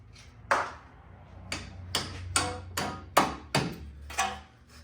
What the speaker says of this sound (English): if you do want to use a hammer to pop these out, you don't want to mess up your threads, so just real gentle taps